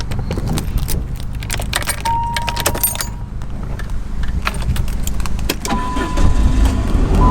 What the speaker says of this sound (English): Cranks right up like a charm.